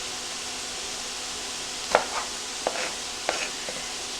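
A knife cuts raw vegetable strips in half on a board, a few soft separate chops over a quiet kitchen background.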